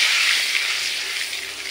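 Two eggs frying in a pan for an egg masala curry, a steady bright sizzle that holds evenly for a moment with no talking.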